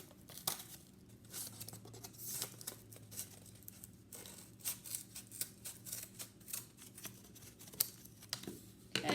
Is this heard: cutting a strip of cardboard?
yes